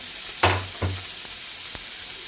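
Onions sizzle steadily in oil in a pan for sardine gravy while a utensil stirs, giving a few sharp scraping clinks over the hiss.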